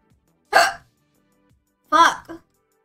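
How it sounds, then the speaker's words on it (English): Two sharp hiccups from a young woman streaming, the first alone and the second followed by a softer catch, close and clear with near-silence between them. "I've had the hiccups off and on like all day."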